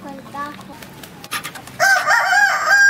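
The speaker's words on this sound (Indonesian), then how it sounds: "Kukuruyuk." Hens cluck softly close by on a farm with egg-laying chickens, then a rooster lets out a loud, drawn-out crow that fills the second half.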